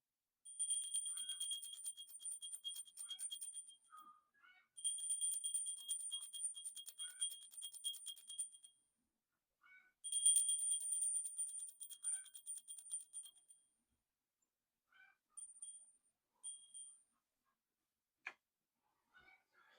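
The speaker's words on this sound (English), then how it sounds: "Today, I will use the pewter bell, smaller bell." A small pewter bell rings in bright, shimmering bursts, repeated several times with pauses between, then fading into sparse faint tinkles.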